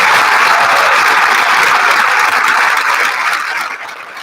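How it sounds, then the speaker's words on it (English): Audience applause at a high school graduation ceremony: a dense, loud wash of clapping from a large crowd that holds steady, then begins to thin and fade near the end, with no voices over it. "Please give a loving round of applause to the family"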